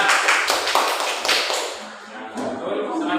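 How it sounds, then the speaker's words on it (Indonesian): A classroom of students claps together in broadband bursts for about two seconds, with chatter and voices mixing in and continuing after the clapping fades. "Oke, kasih tepuk tangan betul ya"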